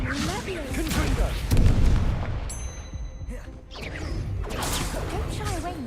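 Fiery Confringo spell blasts in Hogwarts Legacy combat land as repeated booming explosions with whooshes and crashes, layered over game music and character voices.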